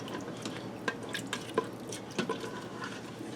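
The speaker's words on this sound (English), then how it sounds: "Now I'm going to give this a stir to loosen up all that goodness off the bottom of the pot" Spoon stirring beef broth in an Instant Pot to loosen browned bits from the bottom, giving soft wet liquid sloshing with a few scattered scraping clicks and drips at close range, with no talking.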